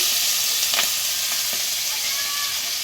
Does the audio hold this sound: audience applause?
no